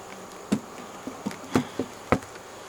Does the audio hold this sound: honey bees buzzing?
yes